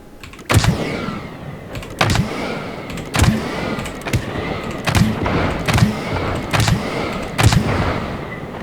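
A-10 Warthog cannons built in Scrap Mechanic fire in about eight sharp, loud bursts at roughly one-second intervals, each crack followed by a short mechanical rattle.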